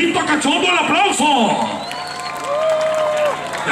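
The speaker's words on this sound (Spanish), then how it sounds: "Si le gustó la pareja del viejito cachondo, el aplauso." Crowd applause at an outdoor town festival concert in Cuautepec, Guerrero, a steady wash of clapping and crowd noise running under an announcer's voice.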